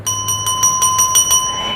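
A subscribe notification bell sound effect rings in a quick series of about eight bright metallic dings with steady sustained tones beneath, loud and close, with no talking.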